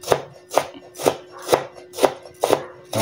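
Knife chopping onion and garlic into small pieces on a board, seven crisp, evenly spaced chops close by and alone, with no talking.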